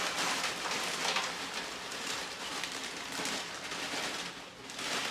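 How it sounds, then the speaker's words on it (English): Steady rain during a thunderstorm, a dense continuous hiss of drops pouring down throughout, fairly loud and even with no voices. "we had a thunderstorm today with rain, which is crazy"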